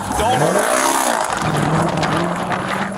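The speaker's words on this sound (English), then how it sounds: "Listen to the sound that car is making. That's a Charger" A Dodge Charger's engine roars during a high-speed police highway chase, loud and close, with rising and falling revs and some talk over it.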